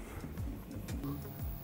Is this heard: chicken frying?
no